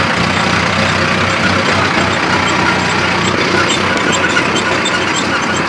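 An Arjun Nova 605 DI tractor engine runs continuously nearby as it heads out early in the morning to plough with a rotavator, a loud, steady diesel rumble and clatter without pauses.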